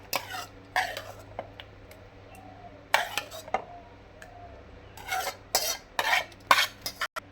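Boiled papaya is spooned into a bowl, giving sporadic close scrapes and clinks of a spoon against the dish in uneven bursts, with quiet gaps between them.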